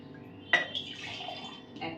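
Water poured into a pot at home for making orange tea; a quiet splash starts suddenly, then a soft continuous pouring and trickling runs on, faint and close, with no talk.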